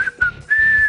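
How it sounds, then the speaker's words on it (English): Magic whistle from the NES video game Super Mario Bros. 3 plays as a bright, sustained tune in short phrases, loud and alone, with no talking. "here comes the magic whistle"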